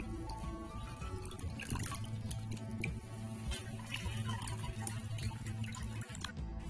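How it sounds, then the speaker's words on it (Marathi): Close splashing and sloshing of mung dal being rinsed two or three times in water, with trickling and small clinks, steady and fairly quiet. "तर आता ही दोन ते तीन पाण्याने डाळ धुतली आहे"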